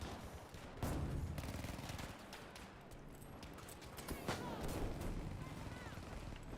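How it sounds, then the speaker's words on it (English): Shotgun fire in the Battlefield V video game, with dense booming shots and scattered battle noise layered over a loud, continuous wash of combat sound. "Finally, the shotguns come into good use."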